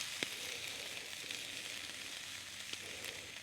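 Vegetables grill over an open campfire in winter, giving a steady, moderately loud broadband sizzle with a few sharp pops and crackles scattered through, with no voices.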